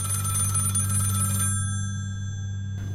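A telephone rings, a loud electronic trill with a steady low hum beneath it that cuts off midway, followed by a short quiet pause before the next ring begins.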